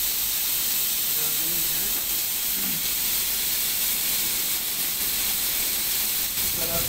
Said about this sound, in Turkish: şunları diğer tarafını çevirelim. Bu taraflar da mühürlensin.